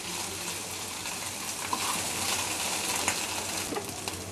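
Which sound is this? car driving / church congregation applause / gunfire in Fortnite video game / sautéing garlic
sautéing garlic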